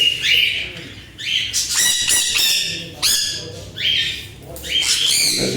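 Several caged birds on a bird farm squawk loudly in harsh, repeated bursts close by, with brief pauses between calls and a faint rustle underneath.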